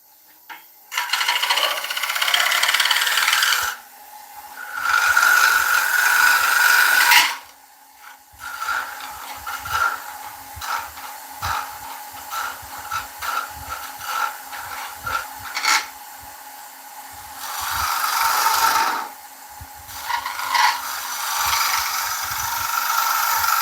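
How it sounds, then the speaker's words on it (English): A beech wood bowl spins on a woodturning lathe while sandpaper rubs against it, giving long loud rasping bursts broken by quieter stretches of scattered rattles and scrapes, close by and without talk. "we want to clean the base up, clean these walls up, sort that rim out, and then we'll give it a sand"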